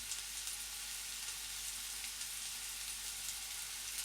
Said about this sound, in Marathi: कांदा आपल्याला छान गुलाबी रंग येईपर्यंत परतून घ्यायचा आहे.